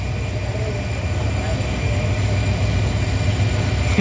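Rumble of a local passenger train between Akhaura and Comilla, a steady low rolling drone with faint rail clatter heard from inside the carriage, continuous and moderately loud with no talk.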